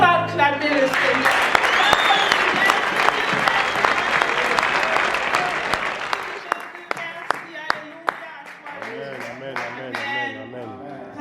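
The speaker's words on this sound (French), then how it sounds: "Nous allons encore acclamer le Seigneur" A church congregation claps and cheers to acclaim the Lord, loud sustained applause that thins out into scattered individual claps toward the end, with some voices and a tonal hum underneath.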